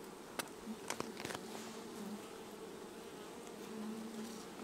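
Honey bees hum steadily around a homestead beehive, a soft continuous buzz with a few individual bees zipping close past at intervals.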